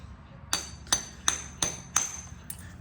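A popper hammerstone strikes a piece of Georgia jasper while flint knapping, giving six sharp, ringing clicks at a fairly steady pace, close and clear with faint background hiss.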